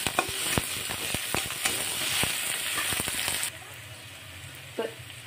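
Chopped green chillies frying in a pan while being stirred, a loud continuous sizzle broken by sharp spoon-against-pan scrapes and taps, then dropping abruptly to a quieter hiss with one last clatter near the end.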